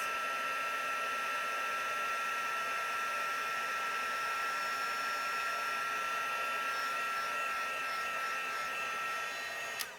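A heat tool blows steadily during heat embossing on a stamped card, a continuous, even, hair-dryer-like whir that runs unbroken for about ten seconds before cutting off with a faint click.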